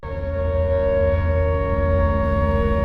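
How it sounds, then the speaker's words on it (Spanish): Wartime air raid siren from the 1937-1938 bombing of Barcelona, a loud sustained mechanical wail with steady tones that rises quickly at the start and holds without break, heard alone. "cada vez que sonaba la sirena antiaérea"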